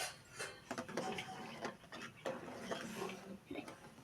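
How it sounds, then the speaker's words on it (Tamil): A spoon scrapes and knocks against a pot while semolina (rava) is stirred into boiling water for rava kichadi, with irregular clinks and scraping under quiet background noise. "ரவையை போட்டு நல்லா கலடுங்க."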